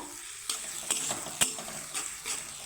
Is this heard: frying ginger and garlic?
yes